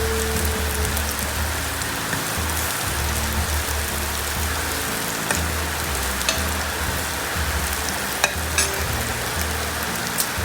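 Garlic sizzles and crackles in hot oil in a pan, the base for a green gram rasam, a steady close frying hiss with occasional stirring scrapes throughout.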